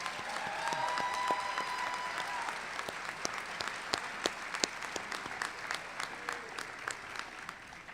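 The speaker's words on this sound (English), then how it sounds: "How about a round of applause?" A large commencement ceremony audience applauds, starting as a dense wash of clapping with faint voices, then thinning into scattered, distinct individual claps over the closing seconds.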